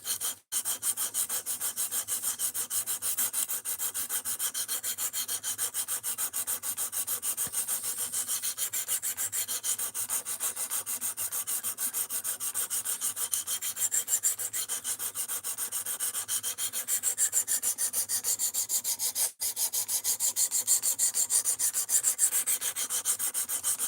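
A D2 steel knife blade on an Ozark Trail axis lock knife is worked on 220 grit abrasive in steady back-and-forth strokes, a close, continuous rasping scrape with a rapid even rhythm and no talk.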